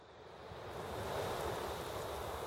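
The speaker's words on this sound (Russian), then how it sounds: "Море тебе тут плещется, костерок горит." Sea waves splash onto a snowy winter shore beside a burning campfire, a continuous broad wash of surf that swells slightly louder midway and holds steady, with no voices.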